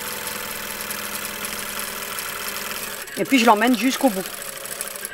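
A sewing machine hums steadily for about three seconds, then someone speaks over the fading mechanical whir.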